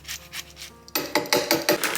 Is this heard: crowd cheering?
no